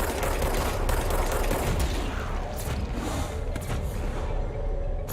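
Loud, dense weapon fire in the video game Control, a continuous clatter of shots and mechanical bursts over several seconds with no talking.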